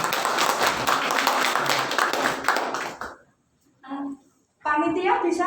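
Church congregation at a Christmas service in Surakarta claps together, a loud, dense burst of applause lasting a few seconds before cutting off, followed by brief bits of speech.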